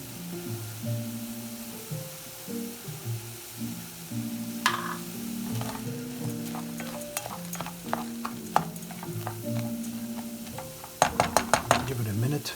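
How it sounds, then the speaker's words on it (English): Bok choy stems fry and get stirred in a pan with a soft sizzle, and a utensil clatters sharply against the pan several times near the end. Background music plays throughout. "add the bok choy stems."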